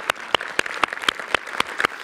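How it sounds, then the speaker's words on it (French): Audience members clap at a 2022 film festival ceremony, giving short, sharp, evenly spaced claps in a quick steady rhythm that sound close and fairly sparse. "Pour applaudir très fort."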